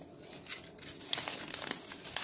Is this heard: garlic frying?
no